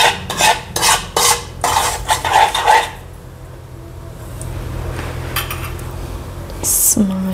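A spoon stirring sugar in a cooking pot for banana sheera gives a few quick scraping, clinking strokes, close and fairly loud, before the scraping softens into a quiet rub with faint background sounds.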